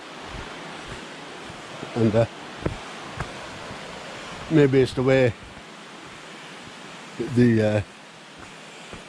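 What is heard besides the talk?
small waterfalls on a walk at the crags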